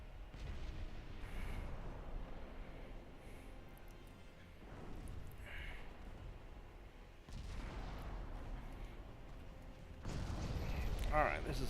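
Battleship guns fire shells in the naval game Ultimate Admiral Dreadnoughts: a few heavy, muffled booms spaced seconds apart, each rolling into a low rumble, fairly quiet, with murmured voices underneath.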